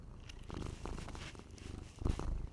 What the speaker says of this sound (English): You heard it here, folks. Purr, purr, sniff.